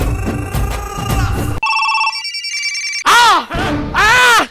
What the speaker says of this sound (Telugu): ఇన్ని ఫోన్లన్నీ సడన్ గా ఒకేసారి మోగుతున్నాయంట్రా?